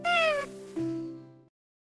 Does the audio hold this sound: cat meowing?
yes